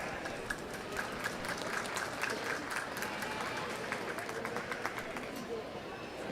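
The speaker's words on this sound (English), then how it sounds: "Let's give them a round of applause." A crowd at a county youth livestock show applauds sheep exhibitors in the ring, sustained clapping mixed with crowd noise and babble, fairly even throughout.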